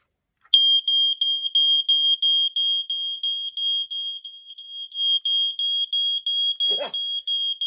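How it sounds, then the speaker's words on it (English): A home smoke alarm under a monthly test starts abruptly after a moment of silence and shrieks in a loud, rapid, piercing series of beeps, briefly joined by a short vocal outburst near the end. "Alright, so now I'm gonna test my own smoke alarm. This is gonna be very loud."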